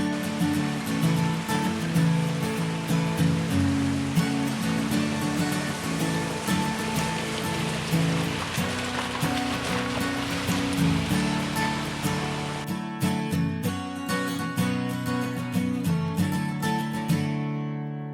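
Surf breaking on a beach in the Andaman Islands, a steady continuous wash of surging water heard alone, loud and close, with no voices.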